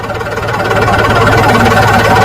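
A Solis 4515 tractor engine idles steadily in neutral, a close, loud, continuous rumble with a regular low throb and no talk over it.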